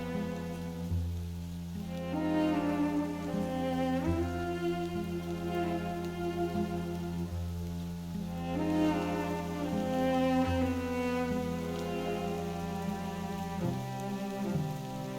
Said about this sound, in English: The Scottish countryside was covered in a blanket of rain as I made my way through this forest.